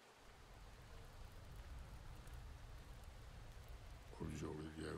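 A heavy downpour in the farming video game Farmer's Life hisses as a steady, dense wash of rain, joined near the end by a low, louder rumble.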